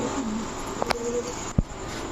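Racer pigeons, a pair of maxi racers, give a few soft coos close by, with a short low burst near the end and otherwise quiet background.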